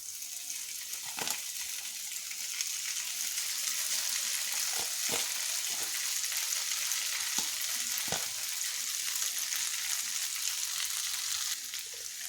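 Steady, dense sizzling as Maggi noodles stir-fry with masala vegetables in a hot pan, joined by occasional scraping clicks of spoons mixing them, continuous and close with no talk.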